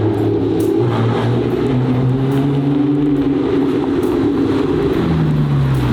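A 1300-horsepower Nissan GT-R with a Gintani-built motor and aftermarket exhaust drones steadily up close, holding a smooth, continuous engine note that rises and falls gently as the car cruises at low speed.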